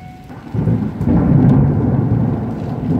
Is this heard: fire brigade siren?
no